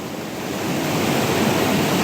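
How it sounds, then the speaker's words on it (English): Water rushes around rocks at a waterfall in Vancouver Island's Alberni Valley, a steady, broad, loud roar with no breaks, close to the microphone and with no voices. "See the water coming right there around the rocks."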